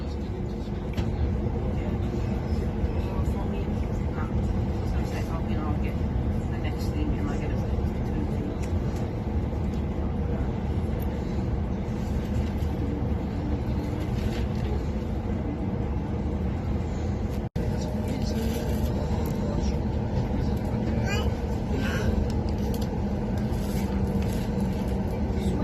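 Steady low rumble inside a moving passenger train on a Central Coast trip, continuous and fairly loud throughout, with faint rattles and no talk, one brief dropout near the end.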